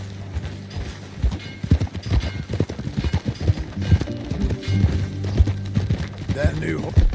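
Horse hooves clip-clop steadily in the video game Red Dead Redemption 2 as a horse is ridden. The hoofbeats sit under game music and occasional talking voices.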